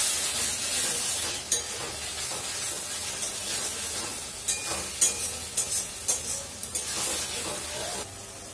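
Spice masala sizzling in oil for a Bengali mutton curry, a soft constant hiss broken by stirring scrapes and a run of short sputtering pops.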